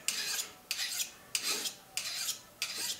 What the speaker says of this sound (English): it's going to take another minute here with the file